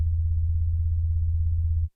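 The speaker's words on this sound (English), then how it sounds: "that's sort of single oscillator resonant tones" A Moog synthesizer bass patch playing a single-oscillator resonant tone, one deep steady pure note held for nearly two seconds and then cut off abruptly, with no talking.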